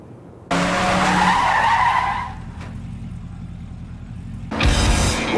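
A car skids under hard braking, a loud, sustained tire-on-road rush that fades into steady rumble before another burst of skidding at the end.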